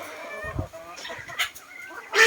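Several chickens, including red junglefowl, clucking and squawking close by in short, irregular bursts, with a sharper cry at the end.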